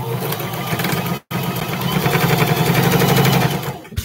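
A sewing machine runs steadily while stitching a 5/8 inch seam allowance on short pants, a dense motor whir with rapid needle chatter, briefly cut off near the start then resuming loud and close until just before the end.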